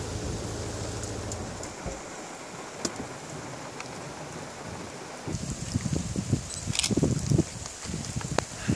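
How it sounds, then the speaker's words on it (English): Heavy rain during a storm chase in Lunan pours as a steady hiss with wind buffeting the microphone, growing into louder, choppier drumming toward the end, faint overall. "Getting hammered by rain."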